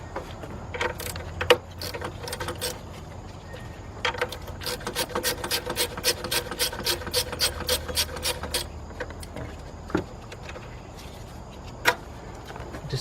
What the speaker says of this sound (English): you got a 10mm bolt that's on top of the alternator. Let's take that off.